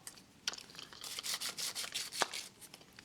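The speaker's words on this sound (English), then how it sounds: "Anything kind of bits of metal that can be rubbed against each other" Small bits of metal rubbed and scraped against each other, giving a scratchy, gritty rasping with a few sharper clinks, close and moderately quiet with no talking.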